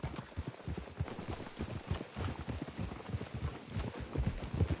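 Horse hooves clip-clop steadily in a video game, a continuous rhythmic trotting patter at moderate distance with no talk.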